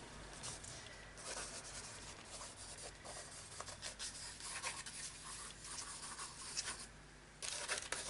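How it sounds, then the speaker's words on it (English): A 4B pencil scribbling on paper, loose back-and-forth graphite strokes rasping continuously at close range, faint and soft with brief pauses between passes. "Just do some really wonderful scribbles"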